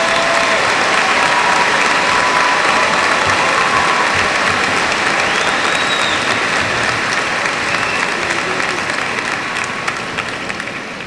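A large audience at a high school graduation ceremony applauds loudly and continuously, a dense wash of many hands clapping that fades slightly near the end.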